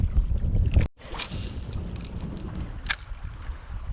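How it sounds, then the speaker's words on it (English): Wind gusting over open water at Goose Creek State Park while kayaking, a close buffeting rush against the microphone with boat and water noise underneath. "The wind is really starting to pick up."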